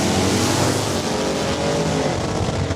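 A Barracuda drag race car launches down the quarter mile at Saskatchewan International Raceway, its engine roaring loud and continuous at full throttle, close and dense with no voices over it.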